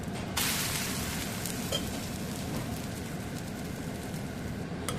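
Dosa cooking on a hot pan over low heat, a loud, steady crackling sizzle close by that continues throughout with no voices.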